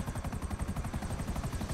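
Rapid rhythmic rotor thumping of a helicopter in the video game GTA V, a steady close beat pulsing several times per second, with no talk.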